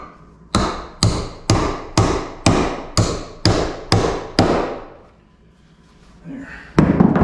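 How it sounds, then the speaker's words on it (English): A hammer drives nails into electrical boxes during a pantry wiring rough-in, striking nine sharp, evenly spaced blows up close, then pausing briefly before one more hit. "I'll go nail all the boxes in, drill all the holes"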